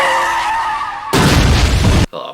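A car crash with an explosion from the film Final Destination 2: a tonal, music-like passage gives way to a sudden, loud, dense burst of crashing and blasting that lasts about a second before cutting off sharply.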